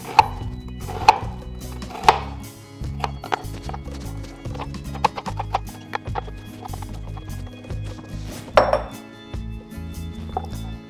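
Vegetables being roughly chopped into big chunks for a beef stew, a steady series of firm, close knife thuds on a cutting board with occasional louder knocks, no voices.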